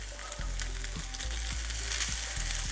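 Cubed leftover rice with vegetables sizzles steadily in a hot frying pan, a loud continuous frying hiss with soft clunks and scrapes as pieces drop in and are pushed around.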